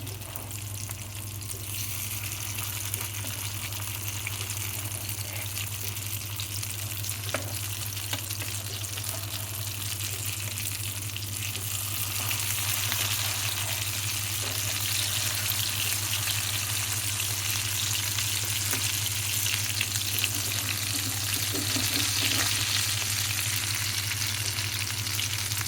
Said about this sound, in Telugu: దీంట్లో ఇది షాలో ఫ్రై వేసుకోవాలి.